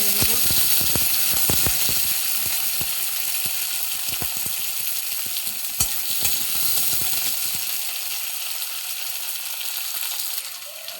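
Onions frying in oil sizzle steadily while a utensil scrapes and clacks against the pan in quick irregular strokes, the stirring easing off toward the end as the hiss continues.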